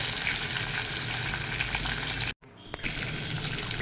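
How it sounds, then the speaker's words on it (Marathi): Peanuts roasting in a pan for a potato dish give a steady hissing sizzle that cuts out briefly midway, then resumes with a small clink before carrying on. "आता हे शेंगदाणे जरा परतून घ्यायचे आहेत"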